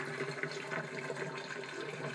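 Water and loose sprout hulls tipped out of a glass sprouting jar, giving a steady, close splashing pour that runs unbroken for a couple of seconds with no talk.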